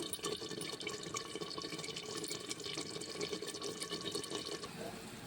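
Hot water pours into a pot of rice for Telangana mutton dum biryani, a continuous splashing gush close by with bubbling liquid texture throughout.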